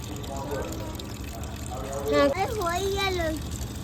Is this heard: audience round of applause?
no